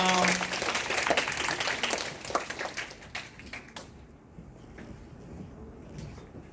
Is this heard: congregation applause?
yes